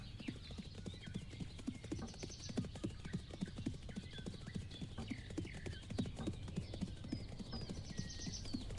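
Rapid rhythmic hooves gallop steadily throughout, with occasional whinnies and faint battle sounds layered over a continuous background, from cavalry in the video game Cossacks 3.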